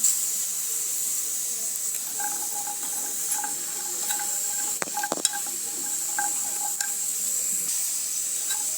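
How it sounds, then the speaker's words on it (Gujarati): Cashews dry roasting in a pan where peanuts were just roasted, heard as a soft steady hiss with scattered light clicks and taps of nuts and spoon against metal, quiet and close, with no talking. "તે જ પેનમાં આપણે આવામાં કાજુ પણ શેકી લેવાના છે"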